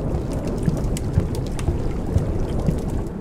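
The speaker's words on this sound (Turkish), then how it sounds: "2 saat sonra fırtına dinmiş mi?" Stormy weather in a Turkish survival video game: a steady rushing wash of wind and rain with occasional low thumps of thunder, continuous and fairly loud with no talking.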